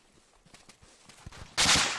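Gunfire in the video game Arma 3 during a multiplayer session: scattered faint shots and clicks build to a loud, sustained burst of fire near the end.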